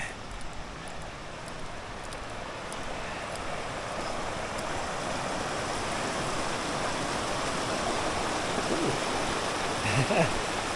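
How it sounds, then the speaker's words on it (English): Glacier-fed creek flowing steadily at Spanish Creek, a broad, continuous rushing of water close by with no pauses, holding an even level throughout. "this is glacial fed, this creek, so I guarantee that is some cold water"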